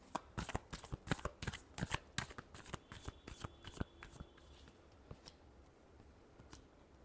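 Quick crisp riffles of a tarot deck being shuffled up close, a rapid burst of flapping card snaps that slows and thins out toward the end, with no voices.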